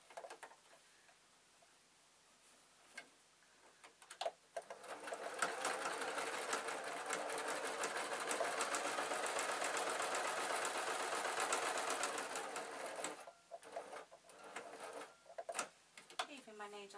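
A domestic sewing machine stitches fabric for storage boxes, running steadily and fairly close for about eight seconds after a few quiet clicks and handling noises, then stopping before brief bursts resume.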